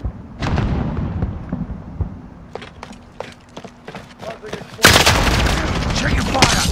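Video game gunfire and explosions sound across the scene: scattered sharp shots through the first half, then a sustained loud burst of blasts and firing near the end, with people talking over it.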